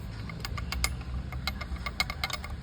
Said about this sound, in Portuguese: E fazendo barulho na turbina.